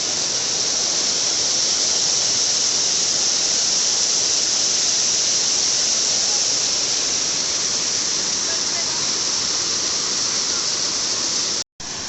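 A hidden waterfall in Dhamtari, Kanker pours in a steady, loud broadband rush of falling water that holds continuously close by, without pause.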